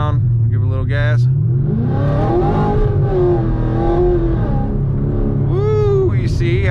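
A 2018 Yenko Camaro accelerates under light throttle after slowing, its engine note rising and falling loudly up close with a steady rumble, while a voice talks over parts of it.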